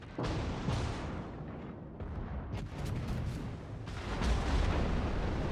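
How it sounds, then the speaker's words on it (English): Battleship artillery in the World of Warships naval game: continuous heavy booms and rumbling salvos overlap one another, loud and dense throughout with no pauses. "now I'm taking fire from all sorts of fire from the broadside I am presenting to a bunch of battleships"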